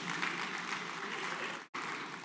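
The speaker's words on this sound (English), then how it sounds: "Can we give him a rousing round of applause?" Sustained applause from an audience at an investment summit in Nasarawa State, a dense steady clapping that breaks off abruptly for an instant near the end and then resumes.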